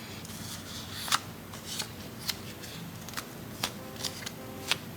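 Press-on nail art being erased makes a soft scratchy scrubbing, with light ticks and taps at an uneven pace. It sounds close and quiet, and nobody talks over it.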